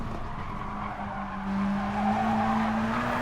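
A race car in GT Sport brakes hard for a turn, its engine drone dropping under a steady tire squeal that rises slightly toward the end, with no talking.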